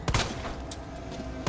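Gunshots in the video game Resident Evil 2, a few sharp bursts of gunfire at the start and end of a short moment, with game ambience between.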